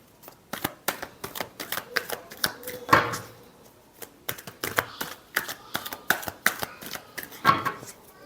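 Tarot cards are shuffled by hand in quick, close, crisp riffling bursts separated by short pauses, fairly soft overall.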